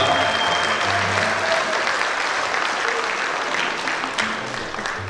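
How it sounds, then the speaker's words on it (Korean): A large audience applauds at the close of a Korean lecture hall talk, with sustained dense clapping that holds steady and then tapers slightly toward the end. "큰 박수 한번 부탁드리겠습니다"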